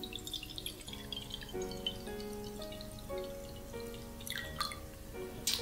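Water from a kitchen sink tap splashes and trickles faintly while a potato is washed, a quiet, uneven dripping over a soft background tone.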